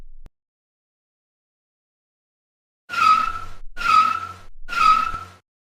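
Three loud, harsh tire squeals in quick succession from a car halted by a special passenger-side brake while the driver still presses the gas, following a brief click and a stretch of silence.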